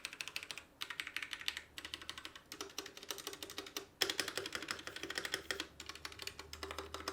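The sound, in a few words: typing on Royal Kludge RK68 budget mechanical keyboard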